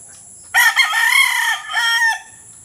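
A labuyo, a red junglefowl rooster, crows once, loud and close, in a long strained call with a brief dip midway, over a quiet background.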